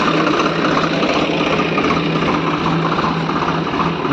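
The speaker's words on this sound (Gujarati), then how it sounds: "જીવનમાં પહેલી વખત એને ટ્રેક્ટર ચલાવ્યું છે" A farm tractor, driven by a younger brother for the first time, gives a steady, loud engine drone close by with little change in pitch or rhythm and no voices over it.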